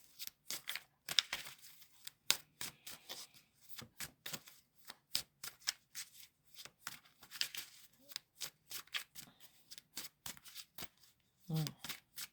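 Tarot cards are shuffled for a card reading, a quiet, close run of crisp riffling and slapping bursts in irregular rhythm, with a brief murmur near the end.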